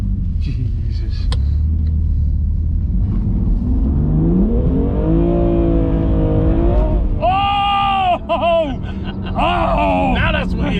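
A 720bhp 2020 Audi RS6 engine and exhaust revving loudly, a deep rumbling drone rising and falling in pitch, then sharp climbing revs with quick throttle blips toward the end.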